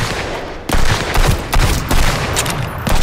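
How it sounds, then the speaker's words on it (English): Loud, dense bursts of enemy gunfire in the survival game Sunkenland, rapid overlapping shots cracking close by in a continuous barrage with short pauses. "Man, you guys can shoot."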